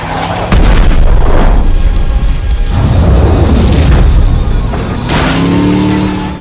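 A rocket launcher explosion in an action movie scene, loud deep booms and blasts that roar continuously for several seconds with dense low rumble, followed by a further burst near the end, no talking.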